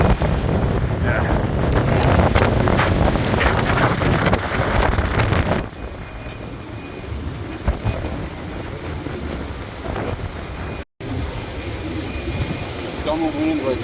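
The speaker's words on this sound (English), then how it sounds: "Ton of wind right now." Strong wind of 24 to 26 knots in the gusts roars across a sailboat moving at about nine knots in the open Atlantic, loud and constant, easing slightly partway through with a voice heard over it.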